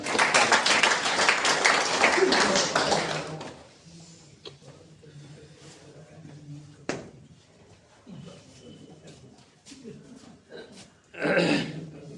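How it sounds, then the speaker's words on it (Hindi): Audience applause at a university seminar honouring a speaker, a dense burst of clapping for about three seconds that fades into quieter room noise, with a short second swell of clapping near the end. "मिथिलेश सर, आप सबों से अनुरोध है, कृपया तालियों से सर का"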